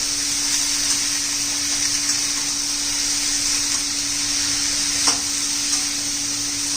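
Potato and flat bean curry sizzles in a pan as it is stirred and mixed, a continuous close frying hiss with a few faint scraping clicks and one sharper knock.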